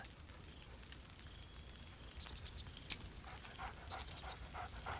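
Scratch the dog in the Baldur's Gate 3 video game, quick soft panting and small yaps at middle distance over a crackling fire, no voices.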